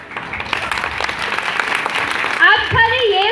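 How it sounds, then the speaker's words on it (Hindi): Audience at a children's stage performance applauding, a steady wash of clapping for a few seconds, then a voice takes over near the end. "यहाँ सर आके बार बार बोल रहे हैं तालियां बजाए तालियां बजाए"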